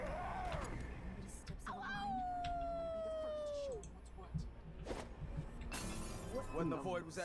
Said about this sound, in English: all I did was throw a bottle